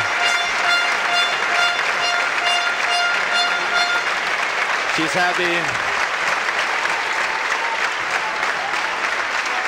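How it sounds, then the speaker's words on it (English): A badminton arena crowd applauds players Juliane Schenk and China's Han Li after a hard-fought match, loud continuous clapping filling the hall, with a commentator speaking briefly over it. "the crowd acknowledges the fight, the effort that she's put into this victory, and applauding the Chinese Han Li as well"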